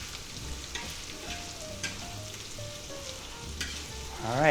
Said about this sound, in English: we're going to let that cook just a little bit while we're stirring it